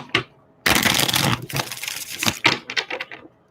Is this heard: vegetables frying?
no